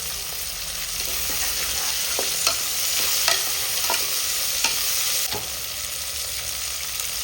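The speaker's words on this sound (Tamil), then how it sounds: "வெங்காயம் தக்காளி வதக்கிறதுக்கு கொஞ்சமாக உப்பு போடுங்க" Onions sautéing in a pan give a loud, steady sizzle, broken by sharp scraping clicks of a spatula against the metal every second or so, with no voices.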